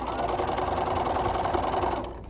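Sewing machine edge-stitching the brim and crown seam allowance of a bucket hat, running continuously with a steady rapid whir and needle chatter at close range before slowing slightly at the end.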